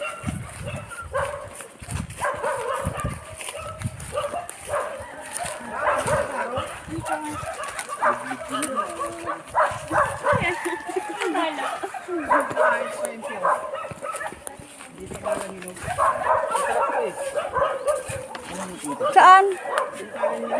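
Dogs bark and yip now and then somewhere in the surroundings during an outing, partly buried under steady chatter and background noise, with a brief sharp burst near the end.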